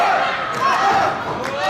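A wrestling crowd chants steadily at a live show during an outside-the-ring spot, a dense sustained roar of many voices filling the space.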